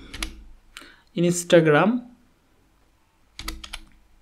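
Computer keyboard typing in short bursts of light clicks, with someone talking clearly over and between them.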